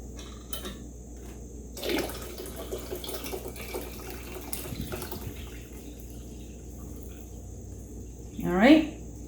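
Hot peach kompot juice syrup strained through a sieve, a soft liquid pour and trickle with light kitchen clatter, ending in a brief louder splash near the close.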